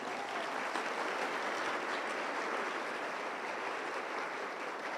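A church congregation breaks into steady applause, a dense, even wash of many hands clapping at once that holds at a constant level for the whole stretch with no voices standing out.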